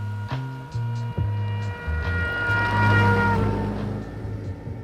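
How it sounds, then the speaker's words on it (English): A trumpet played from a passing car, its sustained notes holding steady then dropping in pitch as the car goes by, with a low road rumble rising underneath toward the end. "What you heard there was the famous Doppler effect."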